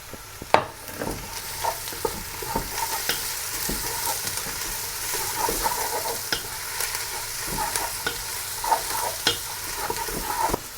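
Chopped green chillies dropped into hot oil in a pan for a fish curry, frying with a steady close sizzle and occasional stirring clicks and scrapes, no voices.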